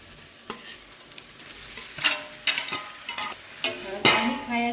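Macaroni being stirred and fried in a pan: a soft background sizzle broken by sharp, irregular clacks and scrapes of a spoon stirring, close and fairly loud, with no speech.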